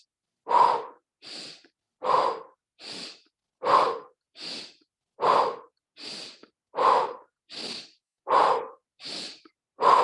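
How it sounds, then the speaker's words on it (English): Rhythmic breathing exercise with a steady series of about thirteen breathy airflow bursts alternating strong and softer, each exhale pushed out through pursed lips, close and clear with no talking. "You're pursing the lips to exhale out."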